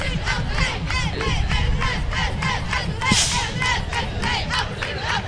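A large crowd at a homecoming parade shouts and cheers continuously, a dense wall of voices with rhythmic chant-like bursts, loud and close throughout.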